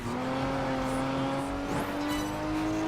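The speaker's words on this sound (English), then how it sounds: "We're drifting right now, even though we're not racing on wet or icy roads." A car drifting in Project Gotham Racing 4 on a dry road, with a steady engine drone and a rising tire squeal, while a voice talks over it.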